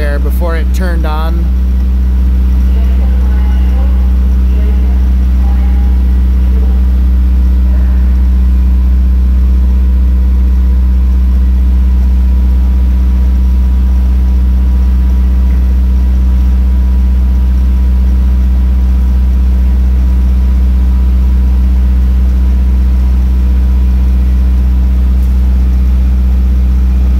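A Graco Reactor 2 proportioning machine switching on after a short delay, then running with a loud, steady low mechanical hum and drone that holds unchanged for nearly half a minute.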